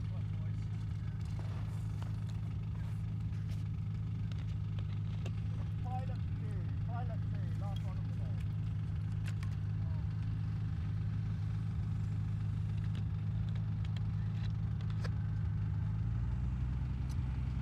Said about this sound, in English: let rip the 315 horsepower to take him majestically into the air on this beautiful day